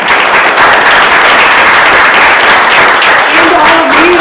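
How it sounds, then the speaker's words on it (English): An audience at a candidate forum for House Districts 67 and 68 in Belgrade claps in a close, loud, continuous wash of applause that stays even from start to finish. "We'll give them a round of applause."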